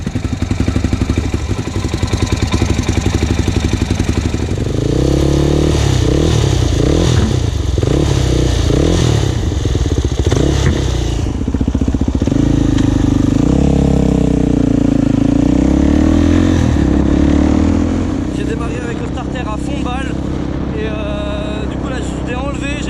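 A Suzuki DRZ dirt bike fitted with a new FCR 39 carburetor, heard from a helmet-mounted camera while riding: loud engine revving and rising and falling with gear changes, over wind noise and clatter.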